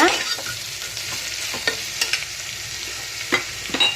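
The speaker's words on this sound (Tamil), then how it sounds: "நல்லா வதக்கி விடுங்க." Vegetables for Kerala aviyal sautéed in a pan: a steady, close sizzle with spoon scrapes and stirring clatters at intervals, no talking.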